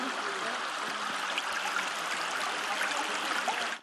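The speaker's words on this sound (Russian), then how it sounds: "Вот эта мутная субстанция, которая течет по улице, не что иное, как канализационные стоки." Sewage flows down a street as a murky stream, a constant close rushing and trickling wash of water that runs evenly throughout and cuts off at the end.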